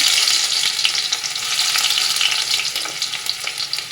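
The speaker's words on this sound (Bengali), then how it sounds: "তেলের মধ্যে দেবো দেখো কিছু আদা কুচি রসুন কুচি" Chopped ginger and garlic dropped into hot white oil in a wok, a loud close continuous sizzle with light crackling and stirring, steady throughout.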